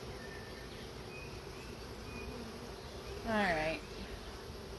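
Honey bees hum steadily around a hive primed to swarm after raising a queen cell, a continuous close drone, with a brief louder burst and a short spoken word near the end.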